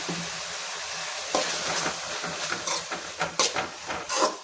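Green chili paste sizzling in a pan while being fried and stirred, a steady hiss with scraping spoon strokes that grow busier toward the end, no voices.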